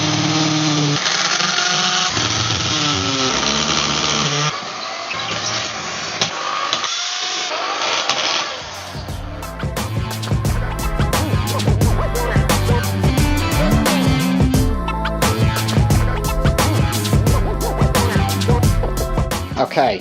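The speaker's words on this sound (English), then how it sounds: "First step, drilling those holes." A power drill bores holes into a wall for mounting brackets, whining in long loud bursts with rattling, grinding texture, heard close up alongside music and talking.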